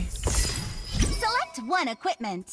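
Glass shatters in an Android video game played on a PC through the Google Play Games emulator. A dense, crashing burst fills the first second, then tonal, voice-like game sounds follow.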